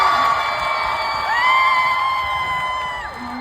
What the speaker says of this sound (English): We're going to do this by round of applause